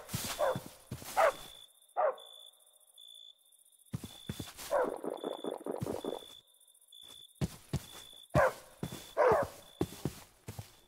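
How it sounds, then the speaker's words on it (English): Several dogs bark in Minecraft from a house some distance away, sharp barks arriving in uneven bursts and quick runs, fairly faint and alone with no talk. "I can hear my dogs from my house way over there."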